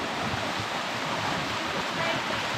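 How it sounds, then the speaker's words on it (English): Water streams and splashes down a porous, grippy limestone waterfall near Chiang Mai while someone climbs it, a steady broad rushing wash close by with no break. "I am walking up a waterfall right now."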